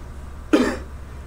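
A single short cough, close and fairly loud, standing alone against quiet background.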